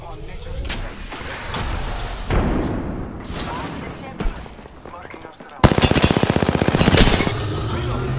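Rapid video game gunfire from a battle game, scattered shots and booms, then a loud close automatic burst near the end, with a voice calling out over it.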